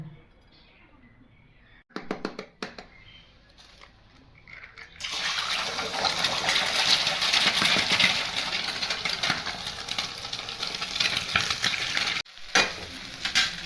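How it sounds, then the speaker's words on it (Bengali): Two eggs go into hot white oil in a wok for a cabbage-egg bhujia: a few quiet clicks and taps first, then a loud, continuous close-up sizzle with occasional crackles from stirring. "এবার আমি এই দুটো ডিমকে ফাটিয়ে ভুজিয়ার মতন করে বানিয়ে নেবো"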